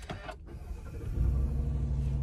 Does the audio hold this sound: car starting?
yes